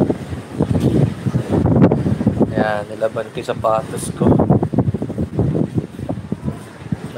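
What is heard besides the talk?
strong typhoon wind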